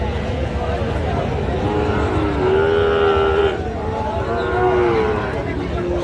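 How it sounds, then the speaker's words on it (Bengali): Cattle moo loudly and long at a busy livestock market, with several drawn-out calls over a steady bed of crowd chatter and talking nearby. "শুধু গরু আর গরু"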